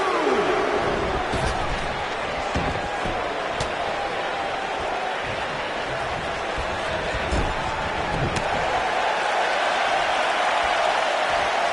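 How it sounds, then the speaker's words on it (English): Dense roar of a wrestling arena crowd at an NXT pay-per-view event, sustained and loud throughout with scattered claps and thuds, while a commentator talks over the noise. "I don't remember the last time I heard a more passionate crowd than the one we have here tonight"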